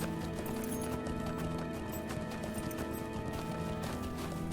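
Horse galloping in the video game Lord of the Rings Online while riding into the Misty Mountains, a steady loud hoofbeat rhythm over a dense, continuous game soundtrack and ambience.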